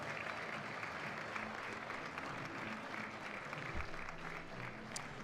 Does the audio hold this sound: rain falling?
no